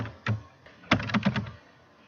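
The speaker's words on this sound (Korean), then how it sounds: "관리 코드라고 입력하시고 엔터 치시면 내려가시죠" Keystrokes on a computer keyboard while entering data into an Excel spreadsheet: a single sharp tap, then a quick burst of several clicks close to the mic, with no voices.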